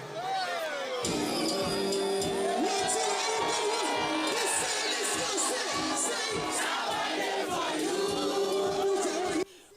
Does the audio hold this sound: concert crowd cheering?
yes